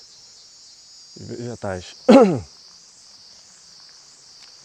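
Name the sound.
cicada singing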